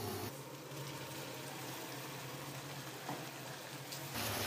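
Garlic, ginger, green chili and tomato paste frying with cumin in hot oil, a steady close sizzle and crackle that runs throughout without a break, fairly quiet and even.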